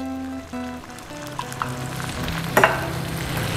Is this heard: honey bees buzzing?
no